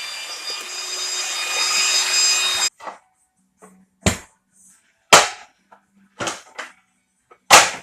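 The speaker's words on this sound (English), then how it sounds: "Then I sanded everything." Hand sanding of cut plywood pieces for a homemade speaker box, heard first as a steady rasp, then as a series of short, separate scrubbing strokes with quiet gaps between them.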